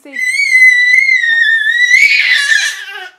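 A baby screams and wails in one long, loud, high-pitched cry that rises into a harsher, strained outburst near the end before breaking off, heard close up with no other voices.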